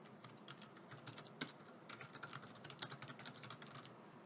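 Quiet computer keyboard typing while entering spreadsheet cell contents, a run of soft rapid key taps with a few sharper louder strokes, alone without talk.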